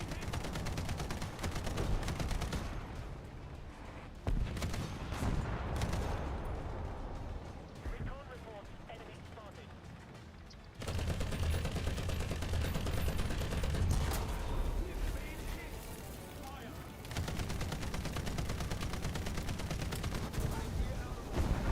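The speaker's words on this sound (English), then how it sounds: "They're shooting" Gunfire from a video game battle, dense bursts of shots and heavy impacts rattling against an Abrams tank, loud and sustained throughout with a brief quieter stretch, while a player talks over it.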